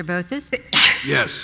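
A single sharp sneeze bursts out in a board meeting room during a roll-call vote, loud and close, right after brief spoken responses.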